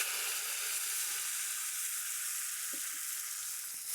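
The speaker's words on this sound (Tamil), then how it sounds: "வேக வச்ச பருப்பை இதில் சேர்க்குறேன்." Steady sizzling and frying hiss as cooked moong dal goes into a hot tempering in a pan for peppery moong dal rice, loud and close, with faint stirring and no talk.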